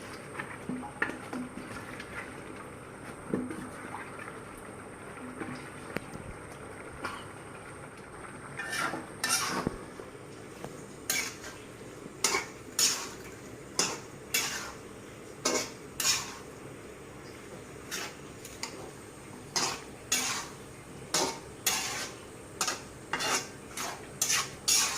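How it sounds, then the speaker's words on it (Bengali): Cut Malabar spinach, eggplant and potato go into a pan for a Bengali chepa shutki curry, followed by a steady series of sharp spatula scrapes and clinks against the pan as the mix is stirred, with no talk. "এখন আমি পুঁই শাক, বেগুন, আলু যেটা কেটে রেখেছি ওটা আমি দিয়ে দিলাম।"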